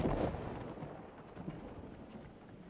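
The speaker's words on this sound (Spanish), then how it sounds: "Había escuchado el cañonazo" A cannon shot booms in the New World video game: a faint, distant low rumble that swells at the start and slowly fades away.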